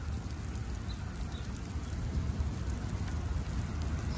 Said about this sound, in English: It's raining, baby.